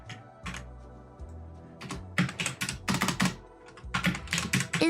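Computer keyboard typing, slow and irregular, with scattered keystrokes and short clusters of clicks, close and clear, no voices.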